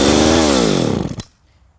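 A small gas chainsaw engine runs loud and close while smoking heavily, its pitch falling as it winds down over about a second before cutting out to near silence.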